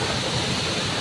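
Constant rushing of falling water at Tinago Falls in Biliran, Leyte, a dense hiss like a waterfall pouring nearby, steady and loud with no other sounds.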